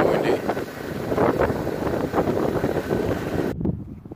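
Strong wind gusts outdoors at a house-painting job site in Mayer, Arizona, roaring and buffeting steadily against the microphone before cutting off abruptly.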